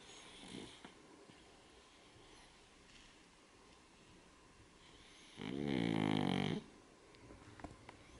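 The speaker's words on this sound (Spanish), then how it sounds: "Y está roncando" A pregnant woman's dog snores close by in a quiet room, one soft snort early, then a long, loud, rasping snore for about a second.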